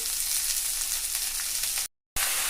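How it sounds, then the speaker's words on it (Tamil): Chopped amaranth leaves (arai keerai) sizzle steadily in a hot pan for a poriyal stir-fry, a close, even hiss that cuts out abruptly for a moment near the end before resuming. "இப்போ நம்ம கீரையை சேர்த்துட்டோம். இப்போ நல்லா கலந்து விட்டுக்கலாம்."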